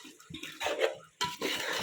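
Marinated chicken tipped into a pot for dum biryani and stirred, a brief wet slop and clatter of utensil against metal, close and fairly soft, in two short bursts.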